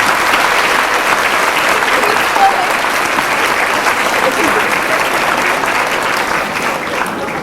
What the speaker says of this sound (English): I would encourage us all to say thank you with a big round of applause for the people who put together